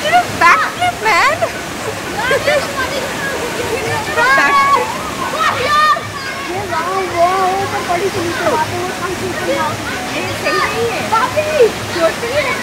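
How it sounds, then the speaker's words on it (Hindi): Panchgram waterfall near Muzaffarabad in Kashmir roars steadily and up close, with splashing from children bathing in its pool. Voices and excited shouts ring out over the rushing water. "तो हम लोग इस टाइम पे पहुंच चुके हैं पंचग्राम वाटरफॉल"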